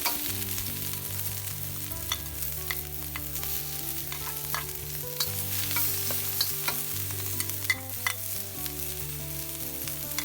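Aromatics stir-fried in a tablespoon of hot vegetable oil in a heated wok while cooking salt-and-pepper shrimp: a steady, close sizzle with scattered spatula scrapes and stirs, under continuous background music.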